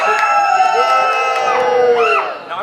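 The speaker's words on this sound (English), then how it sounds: "Everyone over here, scream and cheer!" Theater audience screaming and cheering on command, a loud chorus of high sustained shrieks and whoops with children's voices, rising in a final squeal before fading out.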